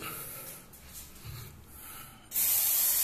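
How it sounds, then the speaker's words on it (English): Lubricant spray hisses onto a squeaky door hinge in short bursts, close to the microphone, with a loud final blast of spray at the end and no talk. "I think we have to spray at another side as well."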